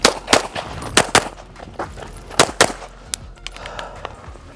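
Pistol shots at a shooting practice session with a Gibson Custom handgun, a fast close string of sharp loud cracks in quick pairs and bursts, then scattered shots farther apart, no talk.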